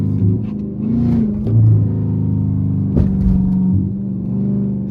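A second-generation Dodge Charger engine rumbles steadily up close, rising and falling as it revs, with a sharp clatter partway through.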